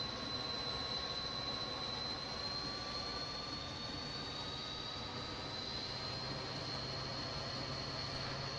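A train rolls along steadily in Train Simulator 2020, working as a New Jersey Transit unit in a rail yard, with a continuous rumble and a faint high whine. The sound is constant and fairly loud, and nobody speaks.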